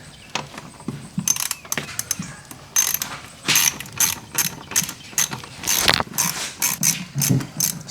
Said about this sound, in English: So next step is removing this hose clamp.